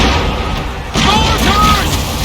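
Mortar fire in Assassin's Creed III booms out in a low, heavy burst amid battle noise, with a voice shouting over the rumble.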